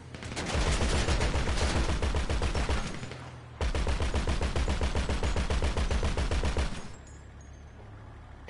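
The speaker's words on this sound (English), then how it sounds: "Dude, he's shooting at me." Sustained automatic gunfire from GTA 5 Online, loud and rapid in two long bursts with a brief pause between them, then dropping to quiet background game sound.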